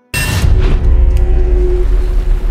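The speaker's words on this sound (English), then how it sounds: "detonates an explosive device strapped to his body" An explosive device strapped to a body detonates with a sudden loud boom, followed by a sustained rumbling roar that lingers at high level.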